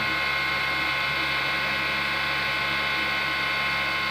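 A cotton candy machine runs with a steady, dense mechanical whir and fine ratcheting rattle, holding an even loudness throughout with no talking.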